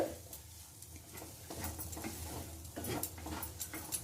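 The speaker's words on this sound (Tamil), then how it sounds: "நான் அடுப்பை ஆஃப் பண்ணிட்டேன், ஆனால் அதுலேயே வச்சு தான் நான் இதை மிக்ஸ் பண்ணிட்டு இருக்கேன்" Cauliflower paratha stuffing is mixed in a pan on a switched-off stove, with soft, steady scraping and stirring and a faint residual sizzle, close and quiet.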